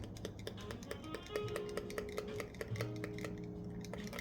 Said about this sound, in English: And then I'm going to give it a good stir.